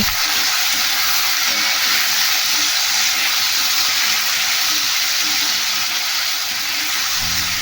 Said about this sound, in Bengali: এদিকে কড়াইতে তেল গরম হয়ে গেলে এর মধ্যে ছেড়ে দেবো কেটে রাখা আলুগুলো